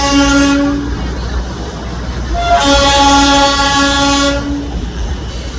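The Darjeeling toy train sounds its horn in two long, loud blasts close by, over a steady rumble of the moving train.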